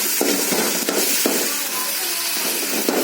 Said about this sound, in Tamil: வெங்காயம், பச்சை மிளகாய், தக்காளி ஒன்று எல்லாம் போட்டு வதக்கிட்டு இருக்கோம்.